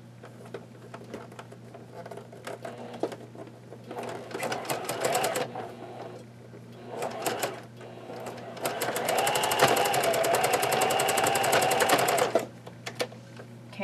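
A sewing machine stitches strips of scrap fabric into yarn in short bursts of fast, close, rhythmic needle chatter, with one long steady run near the end and pauses between.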